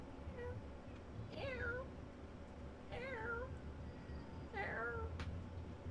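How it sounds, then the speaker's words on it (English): A litter of kittens meowing, three distinct high, wavering mews spaced a second or so apart, fairly close over a low murmuring background. "you hear the meowing get louder"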